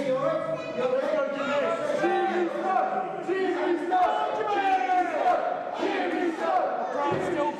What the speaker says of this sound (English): The crowd's still believing in Jimmy though. They're still chanting his name.